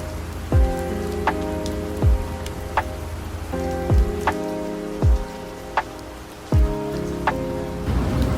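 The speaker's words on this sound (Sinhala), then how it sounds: "ගෙදර යන්න පටන් ගද්දිම ඉතින් මට වැස්සක් සෙට් වුණා" Steady rain falls during the walk home, a continuous wash of rainfall with heavier drops and low thumps recurring every second or so, close and moderately loud, with no talking.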